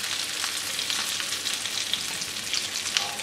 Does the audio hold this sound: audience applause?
no